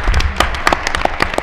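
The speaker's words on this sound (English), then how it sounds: "round of applause would be wonderful." A brief burst of scattered applause at a school board of education meeting, claps popping irregularly and fairly loud over a low rumble.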